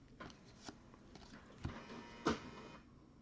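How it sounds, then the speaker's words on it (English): A home printer whirs and clicks as it starts an update cycle, a low steady mechanical hum with several sharp clacks and thumps spaced irregularly, fairly quiet and close with no voices. "My printer just started to go into update mode for some reason."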